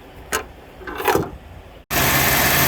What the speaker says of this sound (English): we're gonna crank the engine up, see how she sounds